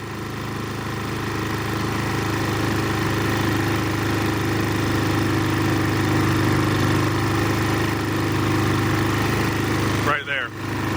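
Predator 3500 generator engine idling steadily with a sustained mid-pitched drone that swells slightly, loud and close, ending with a brief wobble near the end.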